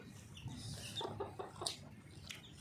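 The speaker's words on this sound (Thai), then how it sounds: "นี่เป็นไก่" Hens cluck softly in short, scattered bursts, with an occasional higher squawk, over a quiet farmyard background with chicks nearby.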